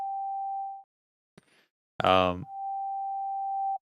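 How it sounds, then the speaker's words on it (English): A loud, pure steady sine-wave tone from a reviewed song holds, breaks off, then returns after a short spoken word. "that is very loud with that sine wave"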